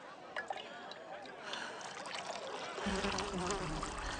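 Water poured into a cup, a soft trickling stream that thickens and grows slightly fuller toward the end, heard up close over faint background noise.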